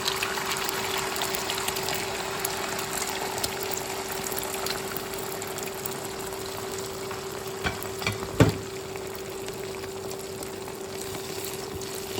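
Steady sizzling of eggs frying in a hot pan, a dense hiss throughout with a faint tonal hum and a brief clatter near the end.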